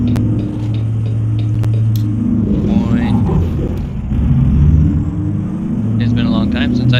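A truck drives in American Truck Simulator, with a steady low engine rumble and road drone running throughout, swelling slightly at moments, while someone talks over it.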